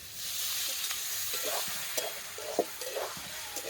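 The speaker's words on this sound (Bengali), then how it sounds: "সামান্য জল দিয়ে মাছগুলোকে কষাবো।" Fried fish pieces and four cloves of garlic being sautéed in a pan with a splash of water: a soft, continuous sizzle under repeated light scraping and stirring taps, close and moderately quiet.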